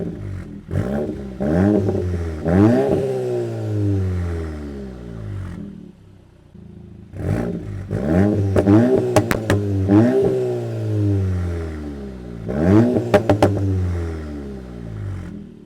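A VW MK8 GTI with a Stage 3 exhaust in touring setup revs hard in repeated bursts, each blip rising and falling sharply, with a short lull midway before several more throttle stabs; loud and close with no talking.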